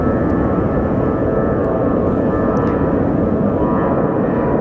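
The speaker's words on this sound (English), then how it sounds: "up next we have SkyWest 3265 going to Sacramento" A SkyWest regional jet at Phoenix Sky Harbor Airport gives off a loud, steady engine roar with a constant whine running throughout, no talking.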